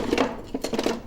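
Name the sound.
rummaging through kitchen utensils looking for a whisk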